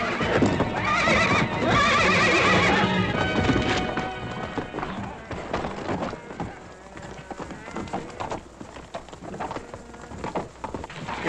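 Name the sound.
horse neighing and running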